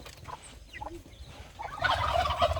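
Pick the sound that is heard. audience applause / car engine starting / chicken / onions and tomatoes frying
chicken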